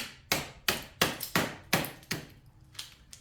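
Hammer blows on a chisel chipping out wood between saw cuts in a workshop, eight sharp close knocks in a steady, fairly quick rhythm, with no talking.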